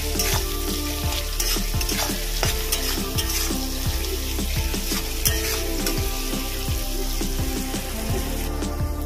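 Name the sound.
onion frying in a pan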